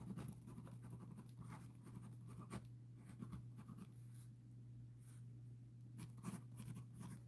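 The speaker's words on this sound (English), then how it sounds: "Let me write your information down" A pen scratches across paper in faint, irregular strokes over a low steady hum, close and quiet, with no talk.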